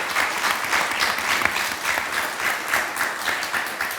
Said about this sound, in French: une bonne main d'applaudissements pour mon magnifique panéliste.